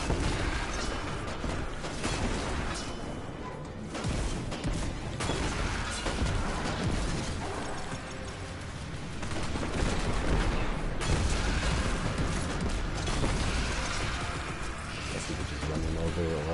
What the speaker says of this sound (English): Oh cool, we get to drive tanks now then.